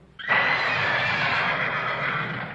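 In The Legend of Zelda: Breath of the Wild, the horse god Malanya lets out one long, loud, sustained neigh that starts abruptly and holds steady for about two seconds, alone and up close.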